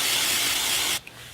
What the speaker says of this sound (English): Now, I can't live without the root cover-up spray.